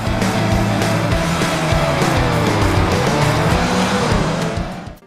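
A race car in the VR racing game Rise: Race The Future drifts, its loud engine droning and revving while the tires squeal continuously, then the sound cuts out abruptly.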